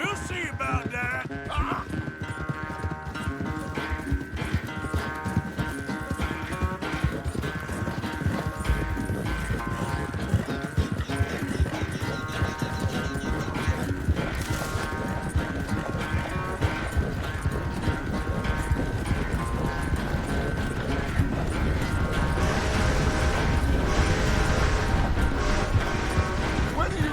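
Horse hooves clip-clop steadily at a trot in the Red Dead Redemption 2 video game, loud and continuous throughout, with voices talking over the riding and occasional tack and gear noise.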